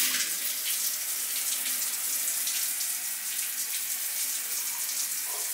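Water from a shower runs in a steady, hissing spray that holds constant throughout, moderately quiet with no voices over it.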